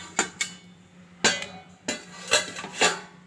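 A metal lid on a kadai pan is handled and lifted, giving several sharp clanks and taps spaced irregularly across a few seconds, close and fairly clear.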